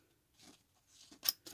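Small embroidery scissors about 11 cm long with a 4.5 cm blade and squirrel decoration snip quietly up close, with a couple of soft cuts followed by two crisp, sharper snips.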